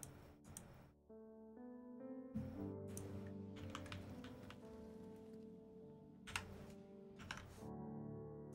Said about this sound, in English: I'm just clicking away, mate, on the keyboard